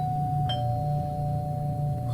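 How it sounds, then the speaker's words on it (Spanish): A doorbell rings once, a single clear chime that holds a steady tone over a low hum in a quiet room, with no voices. "Sonó el timbre y me asusté."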